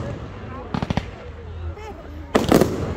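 Loud New Year fireworks at Loch Sport, with a quick cluster of sharp cracking bangs followed by a bigger burst of crackling explosions, over background talk and cheering.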